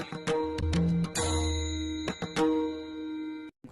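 A series of bright chiming dings and tinkles in quick succession, ringing out and decaying, like an electronic bell alert.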